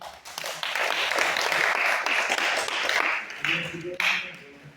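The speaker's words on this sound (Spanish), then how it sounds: "Un aplauso a sus compañeros" Classmates applaud together at a short course on fertility, infertility and contraception, a dense burst of clapping that swells, holds steady, then thins out as a few voices begin to talk over it.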